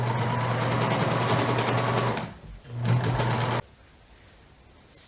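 A three-thread overlock serger stitches a seam on cotton underwear with a loud, steady, fast mechanical whir. It stops briefly, runs again for a moment, then cuts off to near silence.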